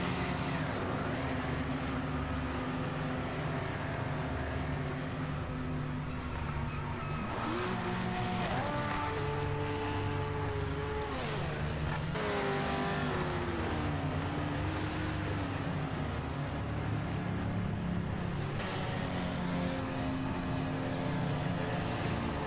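A race car engine in the video game Project Motor Racing roars and revs, with pitch sweeps as it shifts, tire squeals mixed in, and faint voices underneath.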